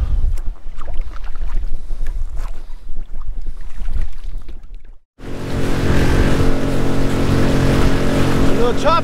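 A solo skiff running at speed over choppy water, first loud wind buffeting and splashing, then after a brief drop a steady droning outboard motor with slapping water, close and loud.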